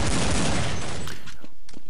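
Gunfire in Counter-Strike 1.6 bursts loud and dense at first, a rapid fusillade of shots that thins into a few scattered, quieter reports.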